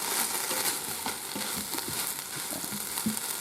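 Chicken searing in a Ninja Foodi on sear mode, a dense, steady close sizzle with small pops and faint stirring scrapes, no talking.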